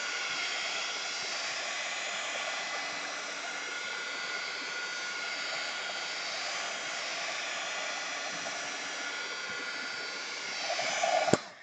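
A heat tool blows steadily to dry India ink on a drawing, a close, continuous whooshing roar that holds for about eleven seconds before ending with a brief clunk.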